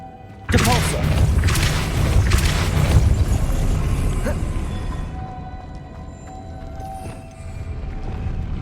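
The Depulso spell is cast in Hogwarts Legacy: a sudden forceful blast, then several seconds of loud rumbling and crashing that gradually thins out. A quieter, steady background follows.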